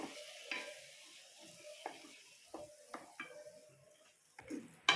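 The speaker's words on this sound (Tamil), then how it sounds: "ஒரு 5 நிமிஷம் வதக்கிக்கலாம்." Quiet sizzling of baby corn with masala paste in a pan, intermittent scraping and stirring clicks, a spoon tapping several times, no voices.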